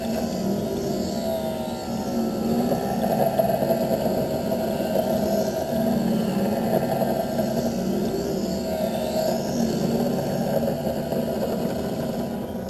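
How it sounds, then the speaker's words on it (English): An optician's lens edging machine cuts a groove into an eyeglass lens, giving a steady mechanical whir with a faint, regularly repeating swish throughout, and no talking. "Now it's going to come down and put that groove onto the lens like before."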